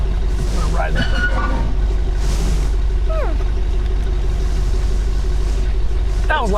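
A full-size Ram Power Wagon truck works its engine along a tight forest trail, a loud steady drone with revving that carries straight through the clip, while voices talk over it now and then.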